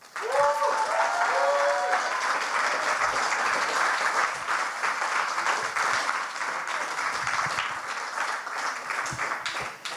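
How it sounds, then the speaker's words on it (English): An audience at a Science Slam gives the candidates a long, steady round of applause, dense and sustained for the whole stretch, with a brief voiced call near the start. "now we give them all another big round of applause"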